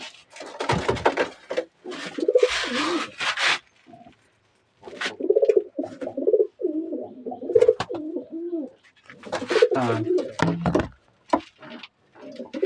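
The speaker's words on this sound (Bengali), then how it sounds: "এই কিছুই পায়রা আছে আমার ঘরে, লাল শিরাটার শখ করাচ্ছি।" Pigeons in a home loft, including old-bloodline birds, coo in bursts up close, soft throaty calls broken by pauses and occasional wing and wooden clatter.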